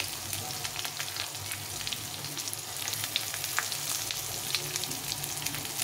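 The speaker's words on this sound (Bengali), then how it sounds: "পেঁয়াজটাকে একটু লাল লাল করে ভেজে নেব।" Chopped onion sizzles in a pan as it fries toward a reddish brown for a breakfast upma, a steady close crackle with scattered sharp pops and occasional stirring scrapes, continuous and fairly loud throughout with no talking.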